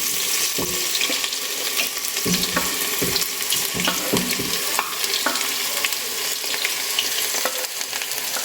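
Onions sizzle and fry steadily in a pot with whole spices for lamb curry, stirred with a wooden spatula, giving a continuous close hiss broken by scraping clatters and knocks.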